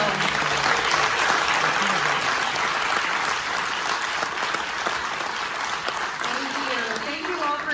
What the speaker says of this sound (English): applause for this incredible film